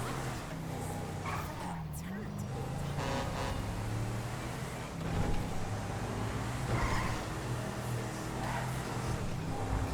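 A car drives in the video game GTA V, with a steady engine drone and hum running throughout and brief swells in loudness. Voices talk over it.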